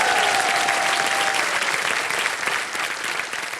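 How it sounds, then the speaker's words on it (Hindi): A studio audience on the Hindi quiz show KBC applauds a contestant on the hot seat, loud sustained crowd clapping filling the whole stretch with no talk. "तालियां बज जाए इनके लिए।"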